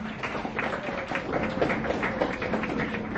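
Applause from an audience thanking a conference panel, a steady mid-level wash of clapping lasting a few seconds with no voices over it.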